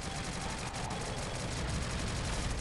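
In the shooter game Shadowgun Legends, a turret fires dense, rapid bursts of gunfire, loud and continuous from start to finish.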